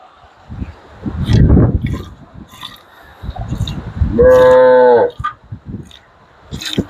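Cattle on a dairy farm mooing nearby, a loud low bellow followed by a long, strongly tonal moo, with quieter shuffling and farmyard sounds between calls.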